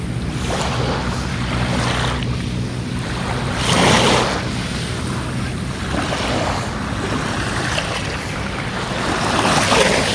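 Ocean waves surge and wash onto a dolomite beach in steady, rolling swells, with gusts of wind buffeting the microphone throughout and no voices.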